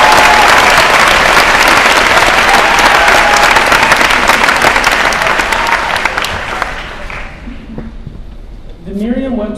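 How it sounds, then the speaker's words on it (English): A large crowd at a high school senior salute gives a big round of loud applause for a teacher, mixed with some cheers, tapering off before a speaker resumes talking at the end. "Can we get a big round of applause for Mr. Marsh?"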